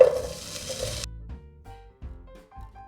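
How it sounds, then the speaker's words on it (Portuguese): Chopped bacon sizzles in a pan, a dense hiss filling the first second, then quieter bursts of crackling and stirring with short pauses between them. "Em uma panela, eu vou colocar 100 gramas de bacon picado."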